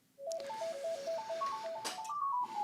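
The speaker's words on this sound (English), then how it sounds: "I got a phone ringing." A phone ringtone plays a bright, repeating electronic melody of short stepped notes. It is fairly loud and close and is heard on its own for a few seconds.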